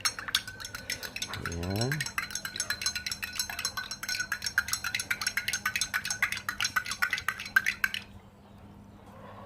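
A spoon stirs a mixture in a container, clinking rapidly and rhythmically against the sides for several seconds before stopping. A voice speaks briefly near the start.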